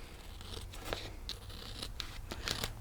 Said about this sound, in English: Nice straight long big scissors, and I'm just going to follow around my envelope